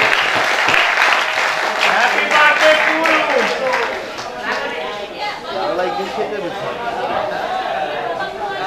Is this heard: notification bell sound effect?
no